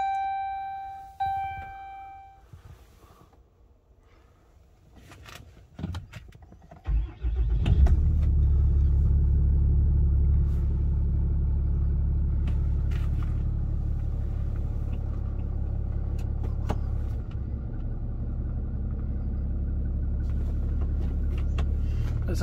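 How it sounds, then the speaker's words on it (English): A 2011 Dodge Ram 3500 cold-starts: a few electronic chimes and quiet clicks, then the engine cranks and catches near seven seconds into a loud, deep, steady idle rumble that carries on to the end. "we're gonna go ahead and do a cold start as well"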